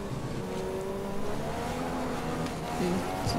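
An F1 car accelerates in the F1 2015 video game, a loud, close, sustained engine whine climbing in pitch with faint tire noise and another car's tone rising near the end.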